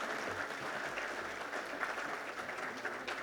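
An audience at an aviation and air cargo summit applauds a speech by Shri Naidu, producing a continuous, even wash of many hands clapping throughout.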